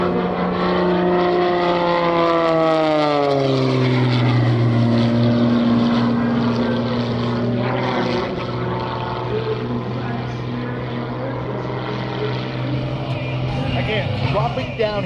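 A single-engine aerobatic propeller plane performs at the NAS Key West airshow, its loud engine droning continuously with pitch sweeping down as it dives and pulls, close and steady throughout.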